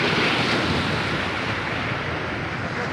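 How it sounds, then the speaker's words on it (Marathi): Ocean waves wash ashore at Anjuna Beach in Goa, a continuous loud roar of surf mixed with wind buffeting the microphone, with no speech. "अशा प्रकारे ते खूप लाटा येत आहेत आणि लाटा हा आमच्या पायाचे दर्शन घेऊन रिटर्न जातात"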